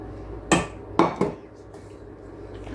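Melted butter and ingredients for wholemeal banana bread being mixed in a bowl: three sharp clanks of a utensil against the bowl close together, then a quiet stretch.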